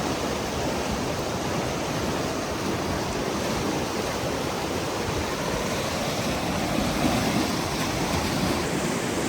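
A broad, constant rush of water fills the scene where Vasquez Creek meets the Fraser River, steady and close with no breaks.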